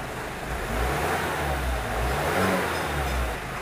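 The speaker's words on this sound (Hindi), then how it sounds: "और गाड़ी को अभी स्टार्ट मारते हैं" A Ford Ecosport engine with a B1206 starting fault runs steadily at close range, its low rumble swelling and easing as the revs rise and fall, with no one talking.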